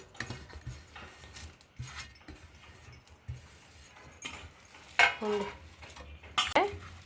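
Ragi roti dough ingredients mixed in a vessel, with scattered metallic clinks and scrapes, a couple of louder clanks near the end, under a person talking.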